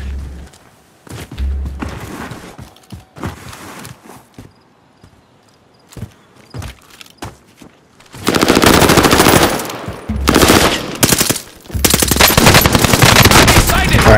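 Video game gunfire: sparse thuds and single shots at first, then loud sustained automatic fire in long bursts near the listener, with a short pause between volleys.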